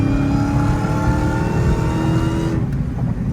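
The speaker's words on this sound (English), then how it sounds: "my exhaust is crazy" Loud, close exhaust roar from an 820 hp Dodge Challenger Hellcat Redeye revving hard, a sustained deep engine note that cuts off near the end.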